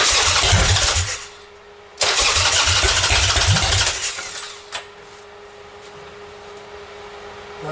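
A Buell motorcycle engine fires for its first start after a wiring transfer, catching in two loud cranking bursts that settle into a rough, uneven idle with a brief pop, close to the mic and with no voices.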